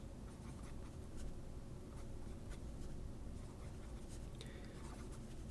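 A Pelikan M1000 green fountain pen with a medium nib scratches faintly across paper in soft, irregular strokes over a low background hiss.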